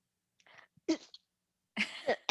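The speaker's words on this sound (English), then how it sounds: "Sorry, now it's my turn to cough." Several short coughs and throat-clearing bursts close by, separated by brief silences.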